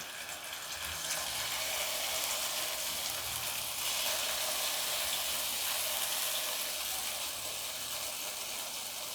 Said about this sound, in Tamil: இப்போ நல்லா மேரினேட்டான ஃபிஷ்ஷை அப்படியே நம்ம போட்டு ஃப்ரை பண்ணி எடுக்க வேண்டியதான்.